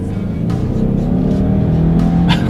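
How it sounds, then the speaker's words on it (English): A 2020 Subaru Ascent, turbocharged, pulls away from a stop, its engine drone rising steadily and fairly loud with road rumble beneath, heard from inside the cabin. "let's do a quick little acceleration, see how quickly we can get the 2020 Ascent here up to speed"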